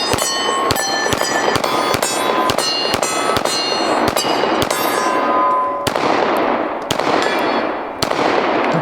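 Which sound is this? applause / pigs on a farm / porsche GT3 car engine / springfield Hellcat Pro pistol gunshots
springfield Hellcat Pro pistol gunshots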